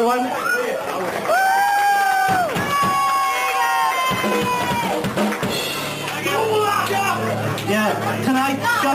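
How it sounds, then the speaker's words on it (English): Cheering and shouting crowd at a live gig, with loud whoops and chatter from the audience over a continuous noisy room, building into a lively roar. "So I think round of applause for Jess, everyone."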